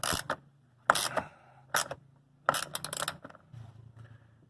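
A bolt is tightened with a ratcheting tool on the door check of a 2004 Chevrolet Suburban. Several close, crisp bursts of clicking come in short runs with brief pauses between them.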